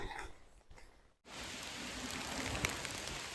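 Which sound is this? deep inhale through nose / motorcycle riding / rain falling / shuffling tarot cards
rain falling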